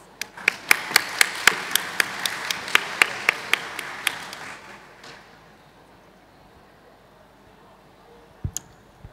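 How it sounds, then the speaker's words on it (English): Scattered applause from a small audience at a university open house for international undergraduate programs: about a dozen sharp, distinct claps over four seconds, thinning out into quiet room tone, with a brief thump near the end. "Please give them a round of applause."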